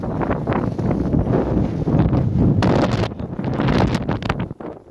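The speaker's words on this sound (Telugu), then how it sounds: "అసలు రేంజ్లో అయితే ఉంది గాలి." Strong wind of a desert sandstorm in Kuwait roars and buffets the microphone continuously, gusting in loud waves with rustling bursts, no voices heard.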